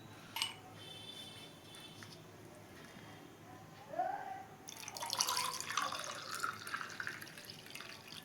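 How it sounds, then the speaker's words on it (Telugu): Ice goes into freshly made beetroot juice with lemon: faint clinks and a splash, then a louder burst of cubes tumbling and liquid sloshing, heard close in a quiet kitchen. "ఐస్ అయితే వేస్తున్నానండి నేను."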